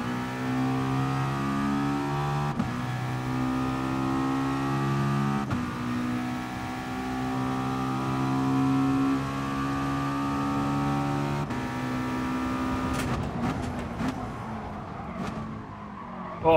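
Race car engines in Gran Turismo Sport, a sustained high revving drone with layered harmonics and shifting pitch, brief gear-change breaks, and scattered tire squeals and rattles near the end.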